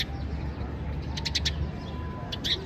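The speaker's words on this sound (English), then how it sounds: "Look out for lovely little Tweety birds who will just sit admiring the view" Small birds chirp in Ljubljana, Slovenia: two short bursts of high tweets rise over a soft outdoor background hum.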